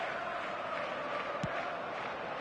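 Steady stadium crowd murmur from a football video game on match day, a continuous broad roar with a faint chant-like tonal hum and one brief thump partway through.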